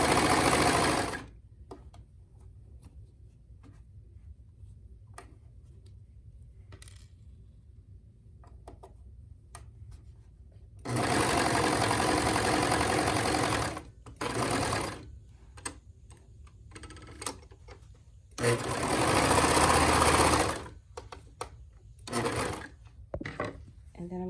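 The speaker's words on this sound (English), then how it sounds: "I'm used to turning with my sewing machine, but I haven't turned with my serger." A serger sews a purse bag cover in two long, loud, steady runs of whirring stitching, with scattered clicks and handling noises of fabric during the quieter stretches in between.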